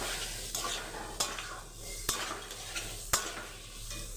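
Spice paste for potol alur dalna sizzles steadily in a hot pan, with a few sharp scrapes and clinks of a spoon stirring against the metal at regular intervals, close and moderately loud.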